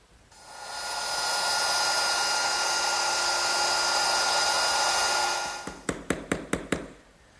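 Wood router cutting a dado for a Shaker-style wooden box, a steady loud high whine running about five seconds before spinning down, followed by a quick series of sharp chisel-like taps.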